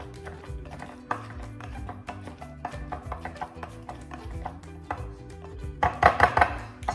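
Cooked pumpkin is broken down into smaller pieces in a cup, with a steady run of close, dull chopping knocks and a louder cluster of clattering strikes near the end.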